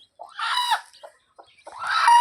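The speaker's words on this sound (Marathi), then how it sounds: "पूर्ण जे मोठे काल निघालेले पिल्लं आहेत ते या कोंबडी खाली आहेत" A hen clucks beside chicks that hatched the day before, in two close, fairly loud bursts of throaty calls separated by a short pause.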